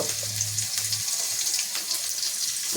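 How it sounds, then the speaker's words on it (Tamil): Mustard seeds fry in hot oil over a medium flame for tempering, making a steady, dense, close hiss and crackle that holds evenly throughout, with no voices. "மீடியம் ஃப்ளேமில் வச்சு கடுகு போட்டு நல்லா வேக அடிச்சிங்கன்னா நம்மளுக்கு ரெடி ஆகிடும் கைஸ் தாளிப்புக்கு"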